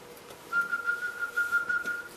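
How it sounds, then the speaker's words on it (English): A steady, sustained whistle from a person holding one clear pitch for about a second and a half, close and moderately quiet, with slight wavering and no talk over it. "usually by having them whistle"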